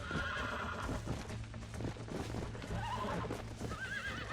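A horse neighs and whinnies repeatedly while being broken in Red Dead Redemption 2, with rising, wavering calls near the end over steady hoof clatter and a continuous low game ambience.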